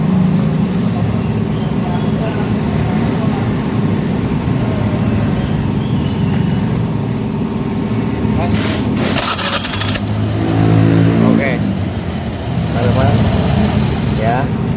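A Honda Beat FI scooter's electric starter is used, giving a low mechanical hum and brief cranking bursts near the middle. The sound is close and steady, with people talking over it.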